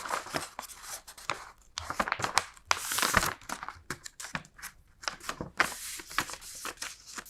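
Sheets of paper or fabric pattern being folded and creased for garment sleeves by a colonial tradesperson, a run of close crinkling and rustling handling sounds with sharp creasing swipes, no talk.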